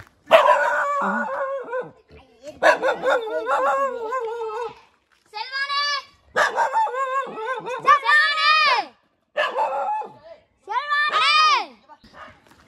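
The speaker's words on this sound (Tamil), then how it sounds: "ஒரு நாய் வேறு பவுபவுன்னு கத்திட்டே இருக்குது" A dog barks and yips repeatedly in a hillside village in Kotagiri, Nilgiris, the barks fairly close and loud in bursts, mixed with people talking nearby.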